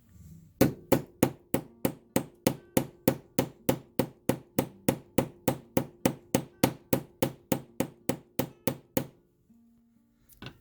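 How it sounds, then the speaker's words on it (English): Rapid, regular hammer strikes on wire for an earring, about thirty sharp evenly spaced taps on metal in quick succession, close and loud, then stopping. "And then I'm just going to hammer, so it's going to be loud again."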